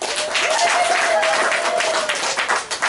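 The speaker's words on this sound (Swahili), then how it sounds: "naomba tuwapongeze kwa makofi tena mengi na vigelegele" A Catholic church gathering in Tanzania breaks into loud, dense applause as a high, wavering ululation rises over the clapping and then fades, with the cheering sustained for a few seconds.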